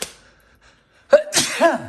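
A single sharp sneeze close by, a quick intake followed by an abrupt burst, after a brief quiet pause.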